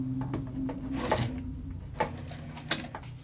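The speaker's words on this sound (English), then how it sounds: "I'm going to top stitch along the top" A domestic sewing machine top stitching along the upper edge of a fabric wristlet at a 3.5 stitch length, running as a steady close mechanical hum with rapid needle clatter and a few sharper knocks, with no one talking.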